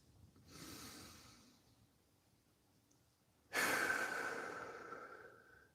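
Two slow, deep breaths taken alone in a quiet room, the first a soft exhale and the second a louder, longer rushing breath that gradually fades.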